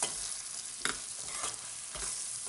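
Chickpea flour and coconut stirred together in a pan over a low flame for burfi, a soft steady scraping with faint sizzling and a few sharper strokes of the spoon, close and continuous.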